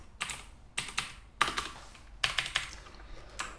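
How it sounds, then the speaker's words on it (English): Computer keyboard keys are pressed while using an Excel Alt+Enter shortcut, several crisp close clicks in short bursts with brief pauses between them. "It was Alt enter pressed simultaneously."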